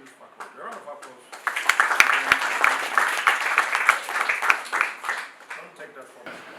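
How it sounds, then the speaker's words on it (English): Applause from an audience at a law faculty orientation, swelling from a few scattered claps into a dense, fairly loud round, with voices talking underneath. "A round of applause."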